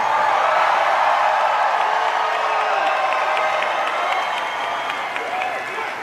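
A large rally crowd in Pensacola, Florida, applauds and cheers for President Trump, a dense, steady roar of clapping with scattered whoops that holds loud throughout and eases slightly toward the end.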